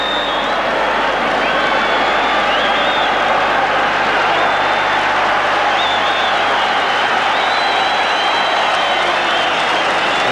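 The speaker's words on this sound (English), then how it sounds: "The St Helens section of the crowd, they're going wild at this score." The St Helens section of a rugby league crowd at the 1984 Lancashire Cup Final against Wigan roars and applauds after a score, a loud, sustained wash of cheering and clapping with whistles cutting through.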